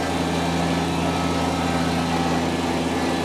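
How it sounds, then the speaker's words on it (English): A Kubota BX1880 compact tractor runs with the PTO and mower deck engaged, giving a steady, even engine hum with a fine whine on top, close and unbroken, with no talking. "throw the PTO in. Mower deck's nice and quiet, just like it should be."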